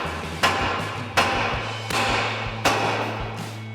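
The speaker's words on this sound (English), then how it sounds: "we're going to use our hammer and tap on our knuckle to unseat this ball" Four sharp metallic hammer strikes on a truck's front steering knuckle ring out at a steady, unhurried pace, each blow crisp and close with a brief ringing decay.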